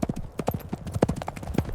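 A horse ridden at night along the road from Jodhpur toward Rathasi, hooves clip-clopping in a steady, close, uneven rhythm throughout.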